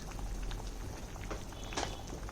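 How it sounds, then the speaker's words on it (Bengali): Chicken and vegetable stew gravy at a rolling boil in a pot, with a continuous close bubbling and soft pops and a few brief louder splutters. "এবার আমার ঝোলটা ফুটে উঠেছে"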